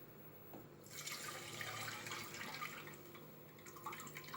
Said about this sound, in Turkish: Ve şu anda tarhanamı ev aparatından süzüyorum.